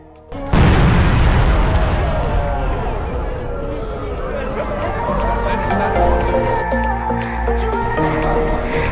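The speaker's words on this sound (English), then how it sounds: "they have a cannon go off to mark the start of Iftar, which is when they can break the fast" Ramadan cannon in Qatar fires a single loud, deep boom marking the start of Iftar, followed by a long rumbling echo under crowd chatter and voices.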